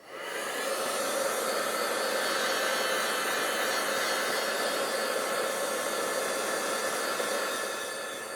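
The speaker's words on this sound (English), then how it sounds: "you can give that a little bit of a blast with the heat tool" Heat tool blasting hot air over Stazon ink: a steady, loud, close whoosh that holds for several seconds, with no voices.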